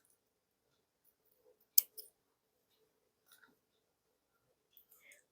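Small scissors snip off a leftover beading thread tail on handmade beaded fan earrings, giving one sharp close click followed by a couple of faint softer snips in an otherwise quiet room.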